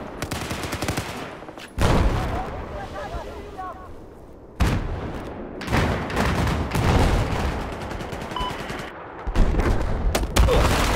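Gunfire in Battlefield 4 from a modified Remington 870 shotgun, heard as loud, repeated shotgun blasts and bursts of fire with other battle noise, in separate bursts through the clip.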